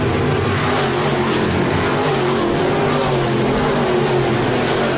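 Stock cars racing at Park Jefferson Speedway in a SportMod and stock car heat, a loud continuous roar of several engines battling for the lead, steady and dense with no talking.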